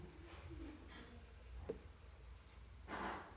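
Writing on a board during a chemistry lesson on aldehydes and ketones, faint close scratchy strokes with a sharp tap midway and a longer rubbing stroke near the end.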